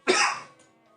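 A man coughs once, a single short, harsh cough up close that fades quickly into silence.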